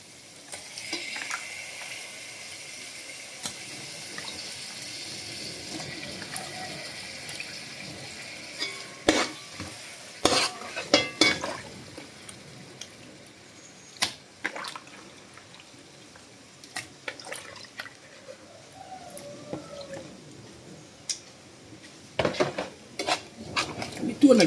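Fish fries in a pan with tomato masala, a soft continuous sizzle broken by frequent utensil scrapes, clinks and stirring knocks against the pan, close up and without talk.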